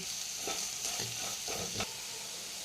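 Carrot pieces are tossed into chicken cooking in butter and stirred, giving a soft steady sizzle with a few rhythmic scraping strokes up close.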